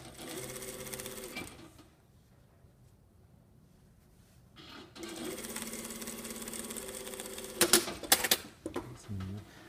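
A sewing machine stitching a shirt yoke seam, running in close, steady bursts with a quiet pause in the middle, then restarting, with a few sharp clicks and handling knocks near the end.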